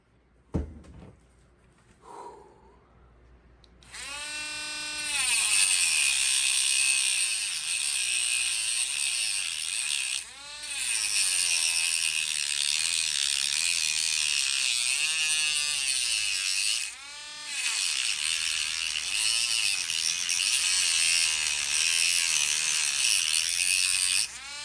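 A ring stuck on a finger is cut off with a loud, steady high-pitched grinding whine that runs almost continuously, pausing briefly twice, after a few faint handling sounds at the start.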